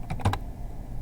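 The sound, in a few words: typing on a computer keyboard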